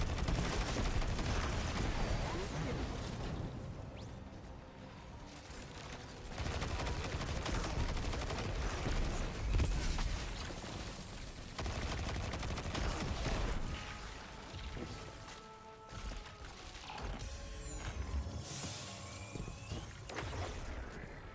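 Vex enemies in Destiny 2 burst apart under constant gunfire, a loud, dense run of rapid shots and crackling explosions that barely lets up for the whole stretch.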